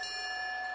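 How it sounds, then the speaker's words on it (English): A bell rings steadily in a brief, sustained burst, its bright, even tone holding without pause at moderate loudness. "I actually do hear a bell ringing"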